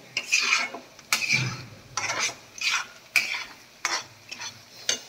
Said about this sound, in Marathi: मसाला तेल सुटा पाहिजे मसाला तोवर भाजायचं.